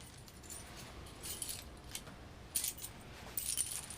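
House keys jangling as they are handed over indoors, a few quiet metallic clinks and rattles in short clusters against a faint room hush, with no talking.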